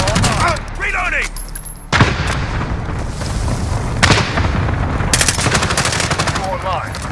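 Rapid automatic gunfire in a Call of Duty Modern Warfare Headquarters match, dense bursts of shots with sharp cracks near two and four seconds, loud and close, with brief game voice callouts mixed in.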